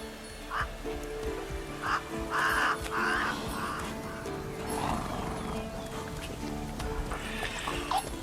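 Roach, Geralt's horse in The Witcher 3, whinnies several times in short bursts over hoof clip-clops and game ambience, with a dog barking and a brief voice in the background.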